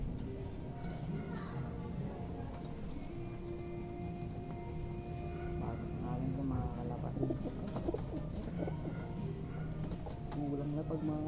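Pigeons cooing close by in a series of soft, throaty rolling calls repeated through the stretch, with a person talking over them and other small background noises.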